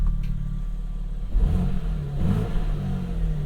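A 2023 BMW M2 engine idles with a low rumble, then revs up with a throaty exhaust growl that rises and falls twice, close and steady.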